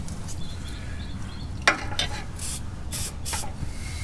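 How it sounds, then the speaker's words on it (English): Silicone spray is sprayed onto a rubber exhaust mount on a Toyota 3RZ exhaust in short hissing bursts, with a sharp click partway through. "a little bit of silicone spray will make the rubber part slide off really easy. So we're just gonna hit it."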